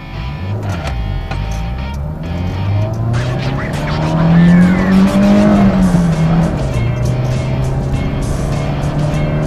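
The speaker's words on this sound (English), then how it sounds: "I think it's time for a 0 to 60 run." A stripped-out Citroën Saxo accelerates hard from 0 to 60, its engine note climbing loudly through the revs with tyre chirps and a gear shift, heard close from inside the car.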